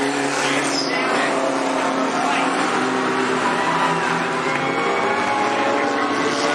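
Hornet-class race cars lapping the dirt oval at Cottage Grove Speedway, a steady loud drone of several engines circling together, with an announcer's voice talking over it throughout.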